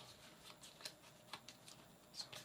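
Board game cards for a three-player Vampire: The Masquerade – Chapters game being shuffled at a table, a quiet run of soft riffling bursts and flicks repeating every half second or so, close up with no talk.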